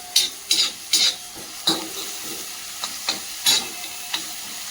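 A spoon scrapes and stirs khichdi roasting in a pan on a low flame, with several short, close stirring strokes over a soft, continuous sizzle and no talking.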